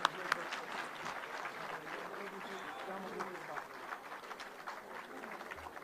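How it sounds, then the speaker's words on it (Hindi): Crowd applause at a poetry tribute gathering marking a political leader's birth anniversary, a moderately loud, steady clapping spread across the room, with a couple of sharp claps at the start. "तालियां एक बार जोरदार।"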